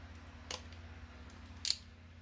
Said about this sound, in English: So when you're cutting this off, you want to cut above the line, not on the line.